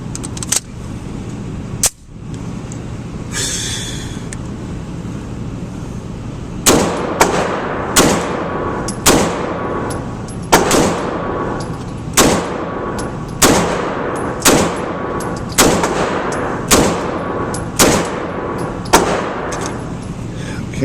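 Ten sharp pistol shots from a Beretta 92X at 10 yards, fired in a steady, evenly spaced rhythm over about twelve seconds, loud and close over a constant outdoor background hum.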